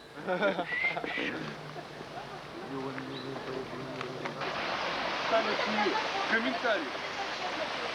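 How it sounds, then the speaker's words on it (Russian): A waterfall in Simferopol rushes with a broad, steady hiss that builds and grows louder partway through, with people talking over it. "Симферополь и водопад."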